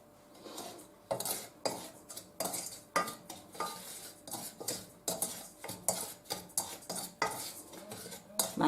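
A spoon scrapes and clinks steadily against a pan while melting sugar is stirred into caramel, the rhythmic metallic strokes coming close and clear with no voices.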